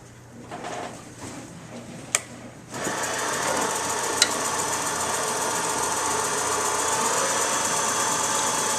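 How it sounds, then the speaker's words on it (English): A wood lathe spins steadily as a parting tool smooths the stem of a Christmas tree ornament, a continuous close whirring hum that swells after a quieter start, broken by two brief sharp ticks. "let's see if we can smooth that up with the parting tool just a little."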